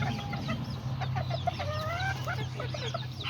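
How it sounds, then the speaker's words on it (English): Small chickens, a mix of Kikiriki, Azteca and Serama birds, cluck in short repeated bursts close by, with a few higher squawks over a constant low background hum. "And then there's the little chickens right here."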